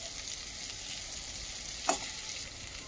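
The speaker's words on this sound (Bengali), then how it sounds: "এগুলো সবগুলোকে ভালোভাবে ভেজে নেব।" Cashews and raisins fry in a pan for sabudana pulao, a soft steady sizzle with one brief clink of a stirring spoon midway.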